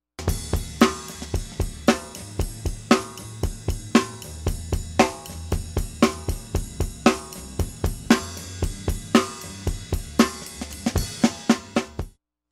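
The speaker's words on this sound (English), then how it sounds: "Here's all the drum tracks together, four in all, that create the drum sound we hear on the record." Four drum tracks layered together from a song, a steady rock groove of kick, snare and cymbal hits, full and punchy, with no voices.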